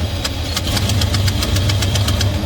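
A 1974 Plymouth Roadrunner with Flowmaster Series 10 single-baffle mufflers idles loudly and steadily up close. A quick, regular ticking from an exhaust leak rides on top of the low rumble.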